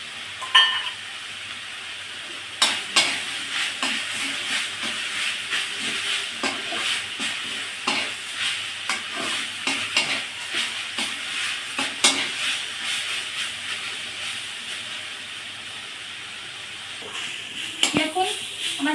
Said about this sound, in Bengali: দেখুন আমার শাকটা ভাজা হয়ে গেছে,